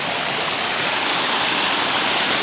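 Steady, full roar of a waterfall heard close up, a dense unbroken wash of falling water that holds at an even level throughout with no voices.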